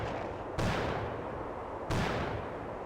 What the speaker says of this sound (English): Hearing a lot of gunshots all of a sudden.